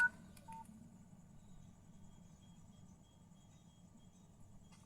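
A Nokia 5130 XpressMusic gives off a couple of brief, faint keypad tones at the start as a balance check is dialed, followed by quiet low background hum.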